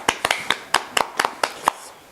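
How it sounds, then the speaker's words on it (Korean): A small group at a talk show claps, sparse sharp claps landing in an uneven rhythm of about a dozen distinct hits, close and dry, with faint voices underneath. "박수 한번 칠까요?"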